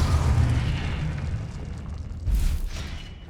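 Spell explosions from the Hogwarts Legacy video game, low rumbling booms that swell and fade continuously, with a second blast near the end, loud and without talk.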